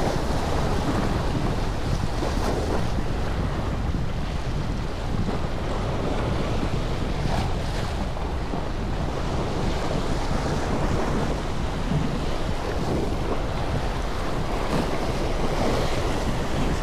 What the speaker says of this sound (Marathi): So वारा खूप आहे मित्रांनो, कास्टिंग करायला खूप प्रॉब्लेम येतो